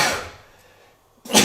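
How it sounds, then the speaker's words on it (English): A person sneezes twice in a truck cab: a loud sharp burst at the start that fades, then a quieter pause and a second forceful sneeze close to the microphone. "I'm going to sneeze"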